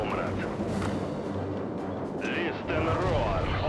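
Deep booming Soviet artillery fire in World War Armies 3 rumbles continuously under a voice speaking, with low heavy blasts and a swelling roar toward the end.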